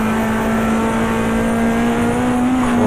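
A BMW touring car racing at Oran Park in the GTR2 video game, 1994 Australian Manufacturers Championship, its engine holding a loud, steady high-revving drone close up throughout.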